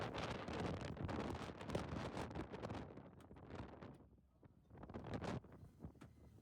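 Strong wind gusts roar across the microphone on a hill road to Munnar, loud and continuous, easing briefly before surging again.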